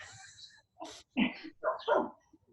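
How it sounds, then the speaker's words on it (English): A dog barks a handful of times in quick succession in a yard, fairly close and moderately loud, with short pauses between the yips. "Everybody else have a dog barking in the yard at the same time?"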